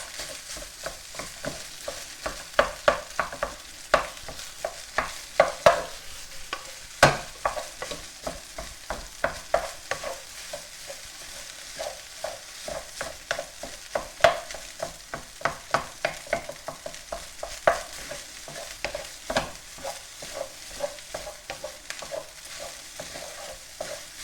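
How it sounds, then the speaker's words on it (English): Egg and cold cooked rice are stirred together in a hot pan for egg fried rice: a continuous soft sizzle runs under quick, repeated scraping and tapping of the utensil against the pan. "Mixing in the egg at the same time."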